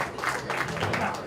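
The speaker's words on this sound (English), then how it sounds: "the crowd showing some appreciation for that finish" Scattered applause from an audience at a pool tournament night session, a short burst of clapping that rises and fades, close and fairly soft, with a voice faintly beneath.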